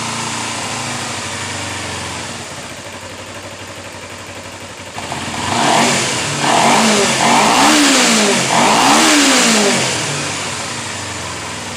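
A 2011 Kawasaki Ninja 250 motorcycle with freshly cleaned carburetors idles, then its engine revs up loudly several times in rising and falling sweeps before dropping back toward idle, close by and without talking.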